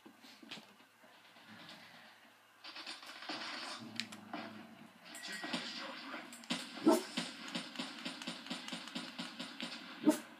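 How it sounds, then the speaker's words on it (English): Dogs bark, yip and whimper in short irregular bursts, fairly close and moderately loud, with scratching and rustling in between. "Stupid dogs."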